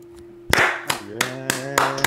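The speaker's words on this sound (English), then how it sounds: "Yeah, boy, clap it up." A handful of people clap in a rhythmic, evenly spaced pattern, five sharp bursts close by after a quiet start, with a low tonal hum underneath.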